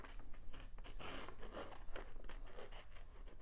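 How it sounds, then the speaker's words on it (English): Scissors cut through the plastic backing cover of a diamond painting, giving a close, crackly, crinkling run of snips and scraping with no voices. "decide how far you're going to take it, and just cut it"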